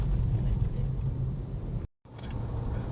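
A car being driven, heard from inside as a steady low engine rumble and road noise, briefly cut to silence before resuming, with no talking.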